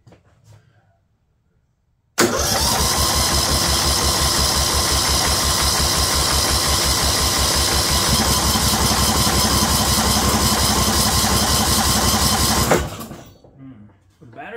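A 2004 Murray 12.5 HP lawn tractor engine cranks and catches, then runs loud and steady for about ten seconds before cutting off, heard up close.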